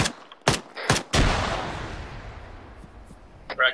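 Gunfire in the Arma 3 military video game: several sharp, loud shots in quick succession, the last one trailing into a long rolling echo, with more faint shots near the end.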